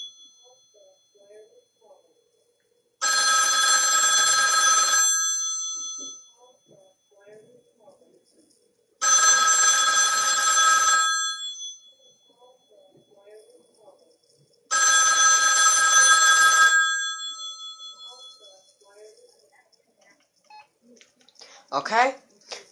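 Ivory 1959 Western Electric rotary dial desk phone ringing at full volume: three loud, metallic bell rings of about two seconds each, separated by pauses, with faint background sounds between them.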